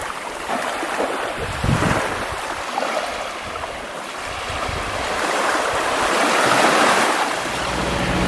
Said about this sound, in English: We're sitting in the boat on the way back from Holbox